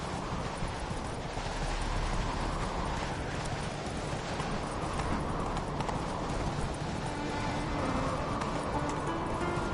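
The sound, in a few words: horse galloping in The Witcher 3 video game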